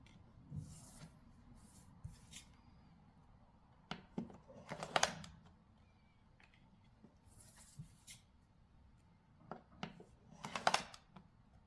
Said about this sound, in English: Next, swipe destination cards A, B, and C.